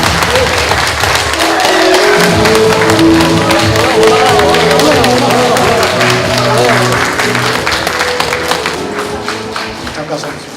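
Sustained applause in a hall at an election results announcement for a Korean diaspora committee, as a committee chair is declared elected, dense clapping with voices and music beneath, tapering at the end.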